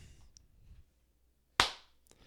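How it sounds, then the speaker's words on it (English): A single sharp hand clap rings out alone after a brief quiet, loud and close with a quick decaying tail. "can you give me a little clap?"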